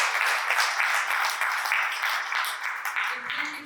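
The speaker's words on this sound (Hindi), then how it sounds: "जोरदार तालियां एक बार उनके लिए" Audience applause at a spiritual talk gathering, a steady crowd clapping at moderate level with a soft pulsing texture, easing off near the end as a low murmur creeps in.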